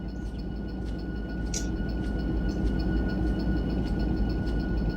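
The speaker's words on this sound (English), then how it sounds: "This is going to be our Boswick coal train." Coal train hauled by SD70ACe locomotives at about 11 mph in a train video game, a steady low rumble of engines and rolling cars with faint squeals and clicks above it, continuous and moderately distant.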